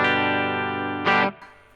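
Epiphone Casino Coupe electric guitar with new pickups, played on the bridge pickup with the pedal off: a loud sustained strummed chord ringing for about a second, then a brighter, harsher strum that cuts off into a faint decaying tail.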